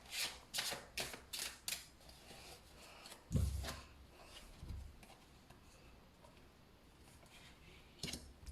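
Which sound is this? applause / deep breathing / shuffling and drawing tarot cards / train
shuffling and drawing tarot cards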